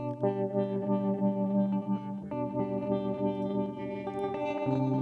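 Electric guitar run through the FabFilter Saturn distortion plugin with chorus effect, sustained distorted chords with a wavering, shimmering modulation, played alone and moderately loud.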